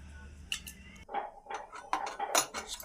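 Knife or cutter slicing through stacked samosa pastry sheets on a kitchen board, a series of crisp scraping cuts with sharp clicks close by, no talking.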